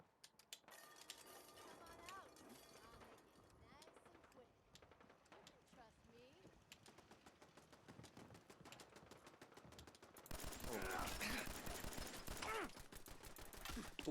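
Rapid video game gunfire in a post-apocalyptic Commonwealth setting, dense bursts of shots continuing through the stretch and growing louder near the end, with someone talking over much of it.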